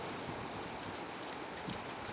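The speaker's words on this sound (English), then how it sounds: "Uh-oh, the rain's starting?" Light rain begins falling on a pond, giving a soft, even hiss of small drops across the surface with no voices.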